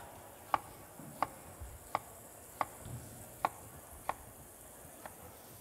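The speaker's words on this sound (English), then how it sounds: "you're just gonna wanna dice the onion super small, almost to a paste, really" A knife chops onion on a cutting board at a live cooking demonstration stage, dicing it very fine for a slaw vinaigrette; seven crisp, evenly spaced chops land about once every two thirds of a second over faint room noise.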